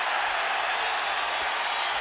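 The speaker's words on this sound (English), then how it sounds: "Alvarez's fans want to cheer for him so bad." Fans in a packed boxing arena keep up a loud, continuous roar of cheering for Alvarez, an even broadband crowd noise with no breaks across the moment.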